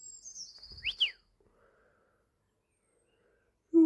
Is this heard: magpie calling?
yes